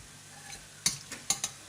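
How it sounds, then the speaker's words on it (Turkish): A few quick scraping stirs and light sizzles of chopped onions frying in oil in a pan, short and close, with no talking. "yemeklik doğradığımız kuru soğanları koyup kavuralım"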